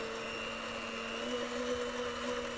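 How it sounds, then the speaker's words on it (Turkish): A steady electric mixer whir, blending keşkek, runs continuously at a moderate, even level with a faint high hum. "Fakat ben bu şekilde mikser yardımı ile aynı sonucu almaya çalışacağım."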